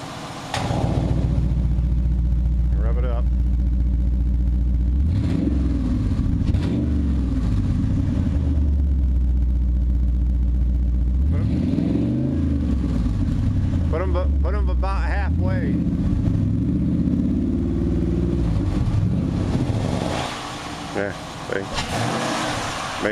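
A Dodge Challenger with exhaust cutouts open revving repeatedly, deep rumbling pulls rising and falling over a loud idle, close up, with people talking between revs.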